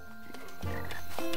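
Singing frogs in a moody swamp at night in a video game give a short run of harmonized croaks, swelling from soft to fuller tones, with no voices over them.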